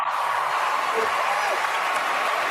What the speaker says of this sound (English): look at all the clapping